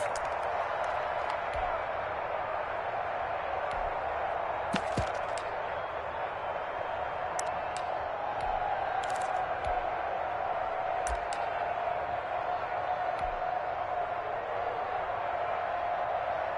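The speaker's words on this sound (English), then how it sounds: "the crowd getting into it as we come up on a big third down" Football crowd at Lambeau Field building ahead of a big third down: a steady, distant roar of many voices with scattered claps and thumps, heard continuously under a commentator talking.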